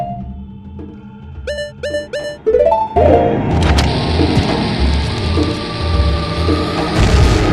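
A bomb blows open a bombable wall in a Legend of Zelda game, Voyager of Time: a loud, deep boom follows a short run of chiming game tones, then a long rumbling wash of debris and noise fades out.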